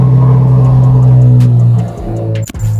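A 2026 Corvette Z06 engine on a cold start holds a loud, deep, steady rumble up close, then a sharp blip and brief dip before the idle settles again.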